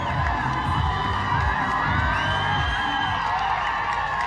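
Spectators cheer, shout and whoop as a police team races to the finish of a timed event, a loud, continuous crowd roar with high excited voices, steady from start to finish.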